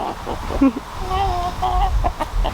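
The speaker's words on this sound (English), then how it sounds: "having this many roosters together is not a good idea" Chickens cluck and a rooster gives a short crowing call nearby on a farm with many roosters kept together, with faint voices in the background.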